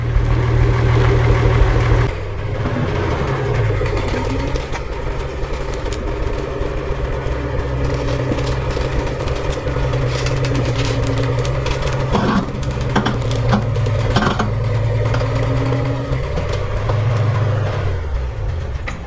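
An old tractor engine labours while pulling a 40-foot shipping container, a loud, steady low drone with rumbling harmonics and occasional knocks and clanks over about nineteen seconds.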